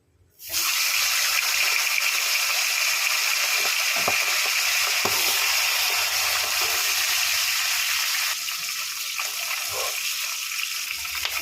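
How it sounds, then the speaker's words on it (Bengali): Whole spices dropped into hot oil left from frying fish: a sharp sizzle bursts in after a brief silence and runs loud and steady up close, with a couple of faint clicks, easing slightly toward the end. "ওই তেলের মধ্যে আমি এই গোটা মশলাগুলো দিয়ে দেবো"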